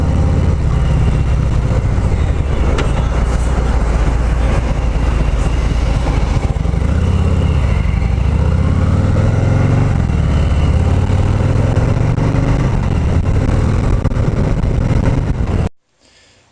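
A 2018 Harley-Davidson Heritage Classic 114 cruiser rumbles steadily on a demo ride, its loud low engine note rising and falling with throttle changes and wind buffeting, before the recording cuts out abruptly near the end.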